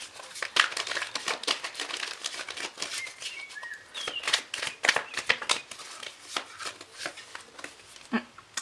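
Oracle cards shuffled and drawn from several decks, close crisp riffles, flicks and papery rustles in quick irregular bursts, no voice heard.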